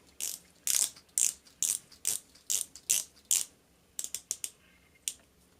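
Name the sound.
rotating Invicta watch bezel ratcheting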